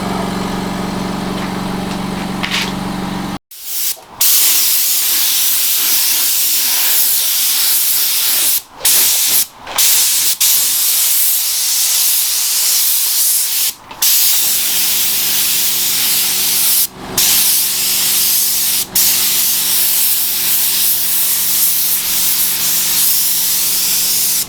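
Spray gun laying light coats of paint on a VW Caddy MK3 siderail cover, loud continuous close hissing in long bursts, broken by brief pauses between passes, with a low hum underneath.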